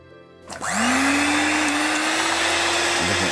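An electric 5-speed hand mixer switched on, a loud, close, steady motor whine that rises quickly in pitch and then holds constant.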